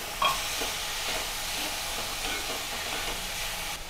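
Banana flower and lentils being stirred and sautéed in a pan, a steady soft sizzle with scraping stir strokes running continuously, close and moderately loud, with no talking.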